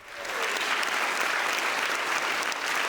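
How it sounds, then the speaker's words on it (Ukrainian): Sustained applause from a full-house audience after a film premiere screening in New York, a dense, steady wash of clapping that holds level throughout with no speech over it. "глядачі після показу довго дякували режисеру оплесками"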